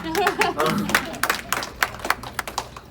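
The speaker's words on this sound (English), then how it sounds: "So, y'all clap for it" Scattered clapping from a small church-style audience breaks out after a voice speaks, sparse individual claps dotting the air rather than a full ovation.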